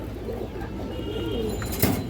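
A fully active male pigeon coos close by in a low, throaty rolling call that swells toward the end, heard alone without talk.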